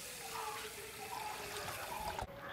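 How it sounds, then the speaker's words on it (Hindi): Water runs steadily while rice is rinsed in a home kitchen, a continuous splashing trickle close to the microphone, with a brief clatter near the end. "अब मैं ये चावल को धो लेती हूँ।"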